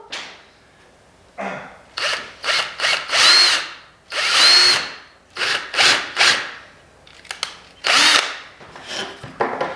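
A power drill bores and countersinks a screw hole in painted fence wood, coming in several loud whining bursts separated by short pauses, close up with no talking.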